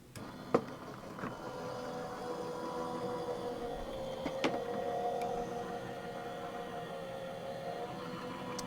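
A die-cutting embossing machine rolls paper through with a steady, soft mechanical whir. A couple of faint clicks break the hum near the start and midway.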